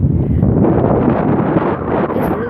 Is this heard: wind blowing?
yes